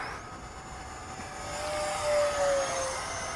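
RebelV2 RC airplane on a 4S battery flying level at full throttle, a high electric motor whine that swells and shifts in pitch as it passes at moderate distance, with no talking.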